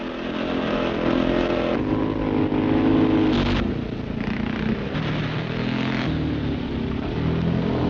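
Several scrambling motorcycles ride in a sand and gravel pit in Essex, engines droning and revving at close to middle distance in a continuous, loud, slightly rough mechanical roar.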